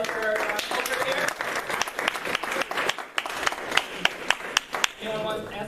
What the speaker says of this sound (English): Big round of applause for our culture here.